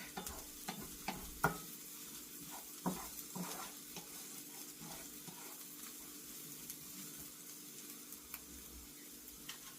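Garlic sizzling in a pan, a soft, steady frying hiss broken by intermittent clicks and scrapes of stirring, fairly quiet and without voices.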